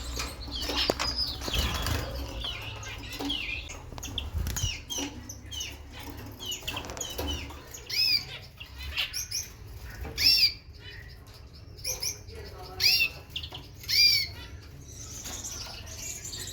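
Chirps and squawks from caged birds mixed with bursts of fluttering wings, several calls overlapping at close range throughout.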